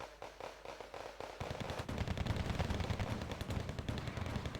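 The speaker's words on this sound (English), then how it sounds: "command vehicle taking fire" Rapid machine-gun and rifle fire in the military strategy game Wargame Red Dragon, dense overlapping bursts that start sparse and then thicken into continuous loud gunfire.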